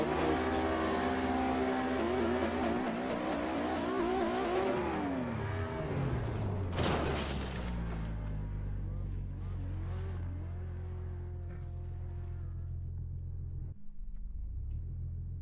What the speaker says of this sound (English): So it's at the top of the rev limit and it just goes meh, meh, meh, meh, meh, meh.